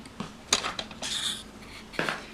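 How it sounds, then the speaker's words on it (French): A spoon clinks and scrapes around a salad bowl in a few short bursts, mixing ingredients for a Easter bread dough; close, bright metallic knocks separated by brief pauses, with no talking. "on mélange un petit peu avec la cuillère"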